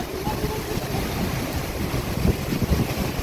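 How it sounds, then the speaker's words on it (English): Strong gale-force wind roars steadily at a seaside marina with surf nearby, a broadband rushing buffet with gusts and mic wind noise throughout, no voices. "Wind's blowing a gale."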